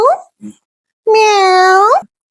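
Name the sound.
person imitating a cat's meow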